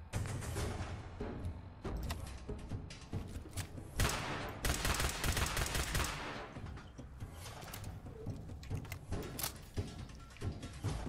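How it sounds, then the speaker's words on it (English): Institute pistol gunfire in Fallout 4 crackles in rapid bursts of energy-weapon shots, mixed with thuds and game combat noise, close and loud throughout. "Ooh, Institute pistol."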